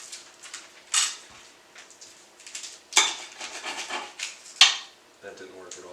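A big kitchen knife cutting into food on a board, a few sharp scraping chops with clatter and rustling between, close and moderately loud.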